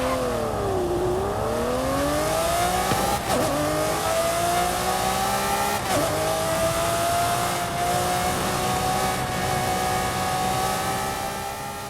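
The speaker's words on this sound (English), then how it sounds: "the Lamborghini Murcielago actually has a quick acceleration rate close to a level 10" A Lamborghini Murcielago in a racing video game revs hard and loud, pulling through gear changes with rising engine pitch. Short dips mark each upshift before the engine climbs again, and the sound stays continuous with no talking.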